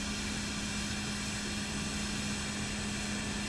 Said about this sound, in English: we're going to hit the engine button, the right engine button here